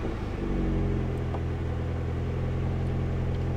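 A Mini JCW engine starts and runs at a steady, close, rumbling idle with a low hum throughout and no talking.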